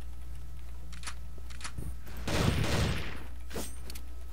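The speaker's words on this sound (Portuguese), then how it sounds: "esse M4inha tá boa, hein, Luciano?" M4 rifle fire in the online shooter Crossfire comes as a short, loud burst of rapid automatic shots in the middle, with a few scattered single cracks around it over a steady low hum.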